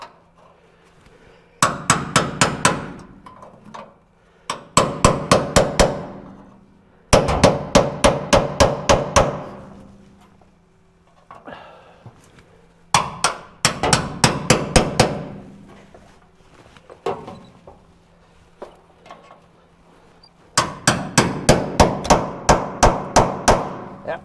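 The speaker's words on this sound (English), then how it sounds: "we might be able to just take that off with the chisel." Rapid bursts of sharp metallic hammer blows on a chisel cutting rusted floorboard metal from a 1967 Kaiser Jeep M715, struck in quick clusters of about six to ten hits separated by short pauses, loud and close.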